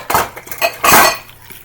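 Egg being beaten in a bowl for Southern scalloped corn, a few quick clinking strokes of utensil against dish, close and fairly loud, with no talking.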